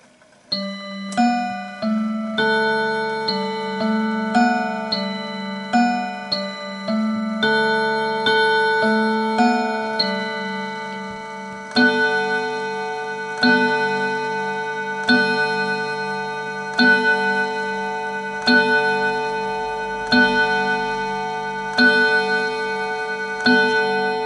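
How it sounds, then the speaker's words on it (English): An antique mantel clock rings the Westminster chime on the hour, a sequence of clear, resonant bell tones in a rhythmic melodic pattern that rings on with long decays, close and loud, with no voices. "it should play the full set of bells on the hour, so to play 8 as well"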